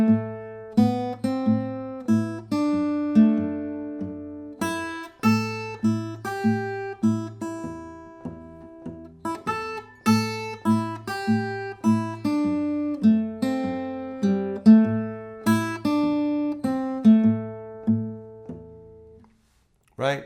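House of the Rising Sun melody picked fingerstyle on guitar, a steady stream of clear plucked notes over ringing bass notes, close and unaccompanied, fading out at the end.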